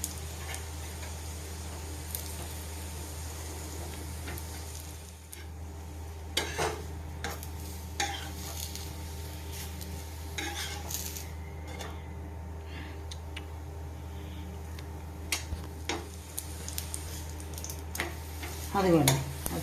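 Sweet rotis roasting with ghee on a pan, a soft continuous sizzle under a steady low hum, with scattered light taps and scrapes of utensils against the pan.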